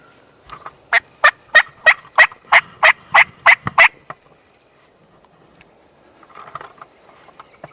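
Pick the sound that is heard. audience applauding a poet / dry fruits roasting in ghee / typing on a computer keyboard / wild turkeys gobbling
wild turkeys gobbling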